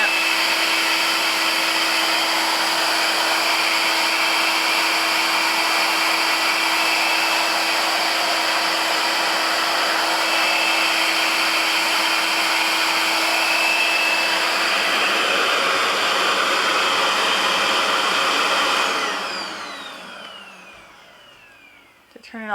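A Rev Air hot-air hair dryer brush runs with a loud, steady, close whooshing whir for most of the clip, then winds down and cuts off near the end.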